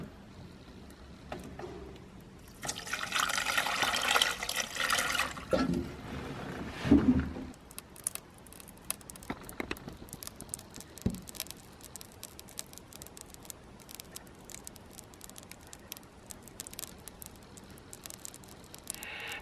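Liquid is poured onto old polyester resin inside a Bertram Moppie boat transom, a loud rushing pour for about five seconds followed by a long, faint fizzing crackle as the resin dissolves.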